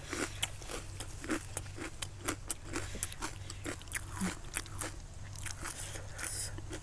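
Crisp, crackly crunching of fried pork rinds being bitten and chewed up close, repeated in a steady rhythm of sharp bites over a low background hum, alongside a spicy Thai seafood papaya salad meal.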